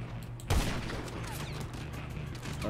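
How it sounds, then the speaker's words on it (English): A single loud gunshot cracks out in GTA 5 Online over a steady low hum, followed by fainter scattered pops and game noise. "a lot of shots"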